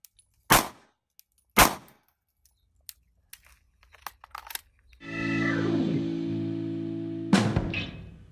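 Handgun shots at a target at a range: two sharp, loud, isolated cracks a second apart, then a few faint clicks and small knocks, followed by a sustained ringing hum and another sharp impact near the end.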